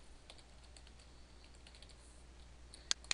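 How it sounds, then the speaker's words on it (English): Soft, steady keystrokes on a computer keyboard while a password is typed, quiet under low background hum, ending in a few sharper clicks. "Then you type in your password and your email."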